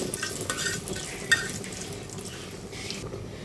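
Sweet pumpkin fries in a pan, giving a soft, even hiss of frying with one brief click partway through.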